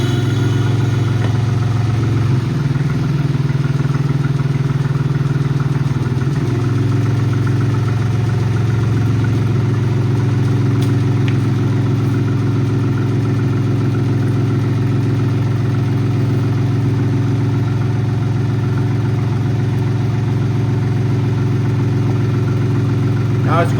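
Cub Cadet Cyclops lawn tractor engine running steadily at idle with a low, continuous hum, close by; the pitch briefly rises and holds for a few seconds early on before settling back.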